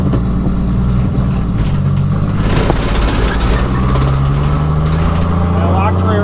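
A 1JZ-swapped Datsun 280Z engine drones loud and close from inside the car during a first drive, a steady low roar that swells as it revs, while people talk over it.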